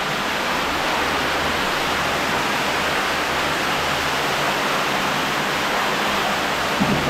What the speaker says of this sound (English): Just a shit ton of water moving.